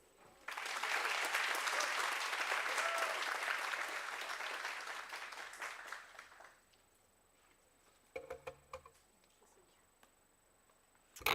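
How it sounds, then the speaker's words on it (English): An audience at a Women's Month event bursts into sustained clapping that lasts several seconds and then fades, followed by a few scattered claps and brief sounds. "can we please have another round of applause?"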